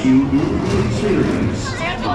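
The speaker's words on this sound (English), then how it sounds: "Here's the crowd waiting for us." A crowd waits at Magic Kingdom ahead of the evening parade, with a steady murmur of many voices, near and continuous.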